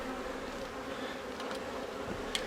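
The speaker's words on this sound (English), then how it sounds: "Hi, angry bees." Angry bees buzz in a steady, dense drone around a beehive being inspected a few days after a split, the swarm sound close and continuous throughout with no talking.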